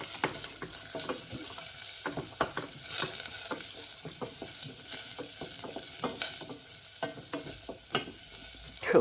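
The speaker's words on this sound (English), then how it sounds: "so the oil is now hot, so we put the onions in and the garlic as well" Onions and garlic frying in hot oil for a chilli con chicken, a steady close crackling sizzle dotted with quick popping spits throughout, alone without talk.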